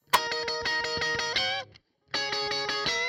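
Distorted electric blues guitar through an amp, a driving strummed riff that cuts off briefly, then resumes at full volume.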